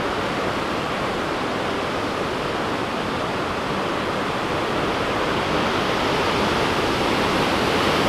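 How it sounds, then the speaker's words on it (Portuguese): Dense, steady roar of the Los Alerces waterfall near Bariloche in Patagonia, Argentina, a broad hissing rush that stays even throughout with no other sounds. "ali tem uma cachoeira menorzinha ali pra trás"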